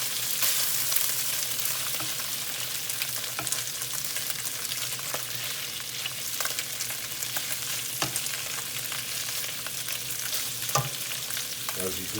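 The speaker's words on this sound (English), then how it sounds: "bacon be done in about 2-3 minutes." Bacon sizzles steadily in a frying pan, a close hissing crackle with scattered pops and occasional scrapes as it is stirred, continuing alone without a break.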